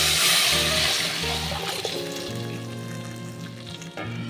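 Pea dal hits a hot pan and sets off a loud, bright sizzle that settles into a steady frying hiss over several seconds.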